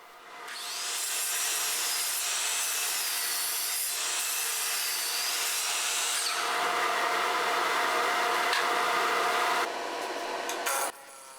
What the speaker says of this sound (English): I start off by measuring and cutting the blank to length